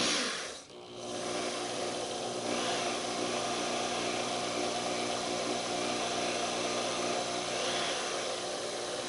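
A power drill bores out the airway of a pipe stem at close range, a continuous rasping whir that dips briefly near the start, then holds an even drone.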